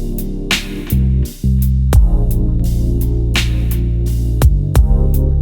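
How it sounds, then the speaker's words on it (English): A sewing machine motor whirs steadily and loudly, stopping briefly and starting again, with sharp clicks as the needle sews down pleats in fabric. "it was over to my sewing machine, and I sewed down each fold about 4 inches"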